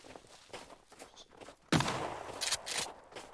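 A shotgun fires in the video game Sons of the Forest, one sudden loud blast midway after quieter footsteps and movement, followed by a couple of softer sharp hits.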